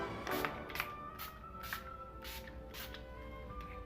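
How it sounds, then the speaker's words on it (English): Urban Decay All Nighter setting spray is misted onto a face in several quick, short bursts with a steady rhythm, each a soft close hiss, faint against quiet room tone. "I'm going to use Urban Decay's All Nighter setting spray just to lock everything into place on my face"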